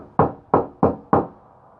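Four evenly spaced knocks on the side panel of a cargo van lined with HushMat sound deadening, each a dull, damped thud that dies away quickly without ringing, close and loud.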